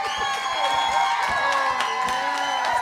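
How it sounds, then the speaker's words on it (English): Audience cheering, whooping and applause greet the winner of week 3 of a comedy competition, a dense, steady roar of crowd noise with shouts on top throughout. "Give her a big round of applause"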